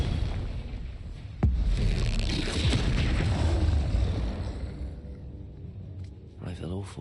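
A Confringo blasting spell goes off in Hogwarts Legacy as a sudden loud boom that rolls into a long rumbling roar and fades out, with voices in the game around it.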